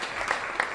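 Brief burst of audience applause at a stand-up comedy club, a dense, even patter of many hands heard at moderate distance.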